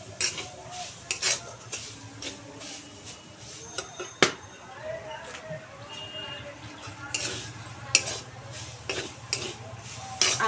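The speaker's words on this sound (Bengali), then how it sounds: "আর একটু ভালো করে নেড়ে চেড়ে নেব" Grated coconut stirred in a wok for Bengali flower pitha, with dry scraping strokes of a spatula, metal clinks against the pan and a light sizzle underneath, the strokes coming in irregular bursts.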